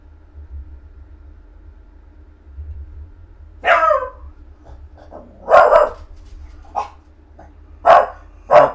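A dog indoors barks in four or five sharp, separate bursts spaced a second or two apart, fairly close and loud against a quiet room with a low hum.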